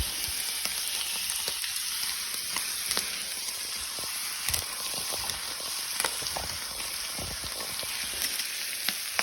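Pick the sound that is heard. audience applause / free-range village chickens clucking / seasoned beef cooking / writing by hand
seasoned beef cooking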